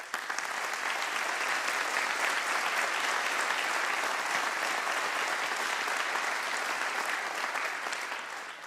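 Sustained, dense applause from an audience at a Lutheran school band festival as students rise to be acknowledged, a loud, even wash of clapping for the whole stretch.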